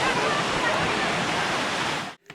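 River water rushes steadily in a loud, dense broadband roar, close by and unbroken for about two seconds before cutting off abruptly.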